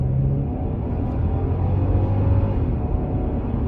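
A 2022 Genesis GV70 3.5T AWD with 375 horsepower accelerates hard from 20 mph under full throttle, heard from inside as a steady, loud low engine rumble with a faintly climbing tone and no talking.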